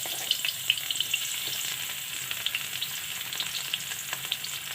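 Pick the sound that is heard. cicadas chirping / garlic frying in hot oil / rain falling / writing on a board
garlic frying in hot oil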